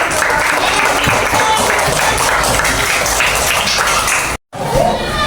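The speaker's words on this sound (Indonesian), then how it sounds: "Oke, baru tepuk tangan." Elementary school children in a fifth-grade classroom clap together in a loud, dense burst that cuts off abruptly, followed by a brief resumption of room noise.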